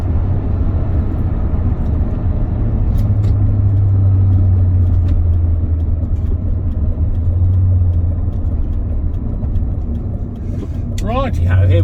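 A BMW with an automatic gearbox drives along in drive, its steady low engine and road rumble droning loud and continuous, with a faint whine rising near the end.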